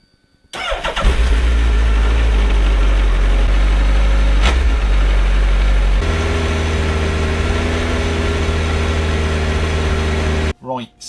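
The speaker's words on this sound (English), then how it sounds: "So what you're listening to is a real standard 2008 Hayabusa." A standard 2008 Suzuki Hayabusa motorcycle on its stock exhaust starts up and settles into a loud, steady idle close by, with a brief blip partway through, then cuts off near the end.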